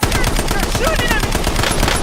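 Sustained automatic gunfire from a video game shooter, dense rapid bursts running steadily and loudly through the whole stretch with no pauses, faint electronic game tones over the top.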